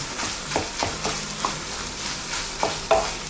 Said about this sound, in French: On va se préparer donc pour snacker les Saint-Jacques et dresser notre assiette.